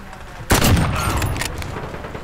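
A single loud sniper rifle shot from an SPR or AX50 in a shooter game, a sharp blast with a ringing tail fading over two seconds.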